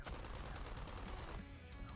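Aircraft cannon and machine-gun fire in the World War II combat game War Thunder comes as a quick, dense stream of rapid bursts that stay faint in the mix, with no voices.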